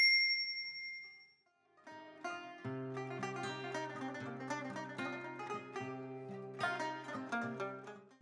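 A bright notification bell chimes at the start and rings out, then fades as light instrumental music with plucked notes takes over; nobody speaks.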